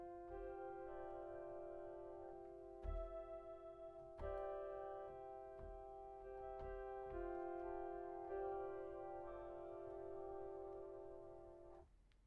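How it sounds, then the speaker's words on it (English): Piano resonance preparation with the direct tone removed, leaving only sympathetic string resonances: soft sustained shimmering drones with faint low thumps where keys are struck, quiet and continuous with no voices. "That way, you just hear only the sympathetic resonances."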